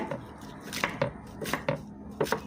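Knife chopping water spinach on a cutting board, a series of sharp irregular thwacks, close and distinct with no voices.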